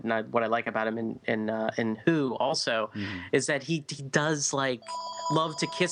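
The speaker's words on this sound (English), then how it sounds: "Excuse my phone." Toward the end, a phone rings with a steady, repeating electronic tone, faint and close behind people speaking.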